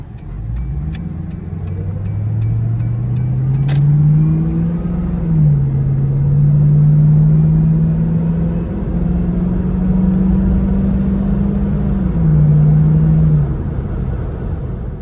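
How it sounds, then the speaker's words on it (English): A stock Ford Mustang GT engine rumbles loudly and steadily as it pulls away, the low drone rising and dipping with gear changes after a few short clicks. "This is what a stock GT sounds like."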